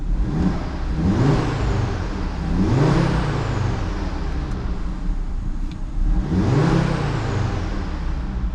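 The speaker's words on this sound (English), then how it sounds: "We'll give it one more rev before we hop out and look at the engine." An Audi RS3 Sportback engine revs hard three times, each burst climbing in pitch then falling back to a deep idle rumble between them.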